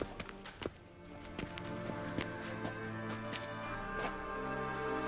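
Steady rhythmic clopping of horse hooves in The Witcher 3: Wild Hunt, a repeated trotting beat over a continuous game background and music bed, moderately close and fairly quiet.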